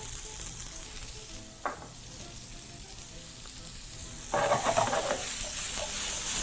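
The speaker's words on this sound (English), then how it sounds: "onions are now beautifully sweating away" Onions seasoned with black peppercorns and salt sautéing in a pan, a steady close sizzle with a brief stir near the start and a louder burst of frying and tossing toward the end.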